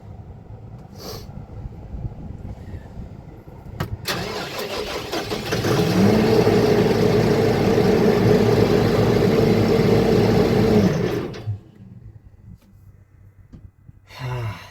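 A diesel engine, after its glow plugs warm, cranks over, catches and runs at a steady rumble for several seconds, then dies down abruptly.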